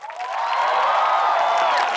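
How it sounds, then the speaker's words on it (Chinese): An audience applauds at a televised concert stage show, a dense, sustained wash of clapping and crowd noise that swells quickly and holds steady throughout. "掌声"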